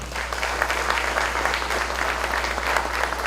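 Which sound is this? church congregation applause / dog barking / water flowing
church congregation applause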